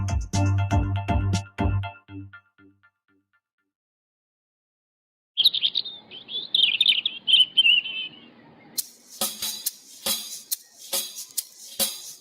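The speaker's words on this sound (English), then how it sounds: "Birds in the trees sing sweet melodies. In the morning they whistle and tweet." Birds chirp and sing in a series of bright, rapid tweets, first as a sustained trilling phrase and then as sharp, clustered calls, following a clattering passage and a silent gap.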